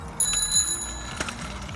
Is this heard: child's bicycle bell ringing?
yes